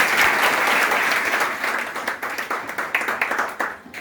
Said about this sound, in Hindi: चलिए विवेक जी के लिए ताली बजाइए